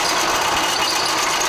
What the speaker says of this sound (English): So I'm going to turn on the drill press.